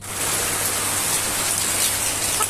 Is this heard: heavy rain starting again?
yes